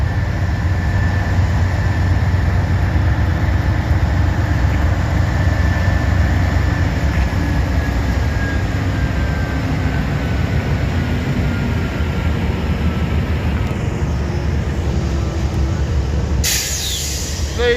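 A freight train hauled by an ES40DC locomotive rolls past close by, a loud continuous rumble and clatter of wheels with a faint high squeal that fades near the end.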